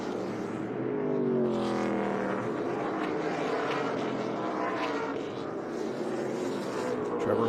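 ARCA Menards Series West stock cars from 2020 drone around the Colorado National Speedway oval, their engine pitch sweeping upward as they pass. A commentator talks over the steady roar.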